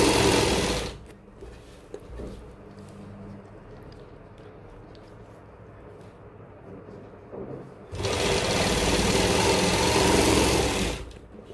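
A sewing machine stitches palazzo fabric over elastic, running loud at the start, then quieter intermittent stitching with handling noise, then a steady loud run of about three seconds before stopping.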